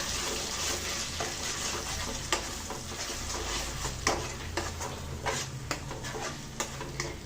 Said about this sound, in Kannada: ಇವಾಗ ಮಸಾಲೆನ ತುಪ್ಪದಲ್ಲೇ ಚೆನ್ನಾಗಿ ಫ್ರೈ ಮಾಡ್ಕೊಂಡ್ಬಿಡೋಣ.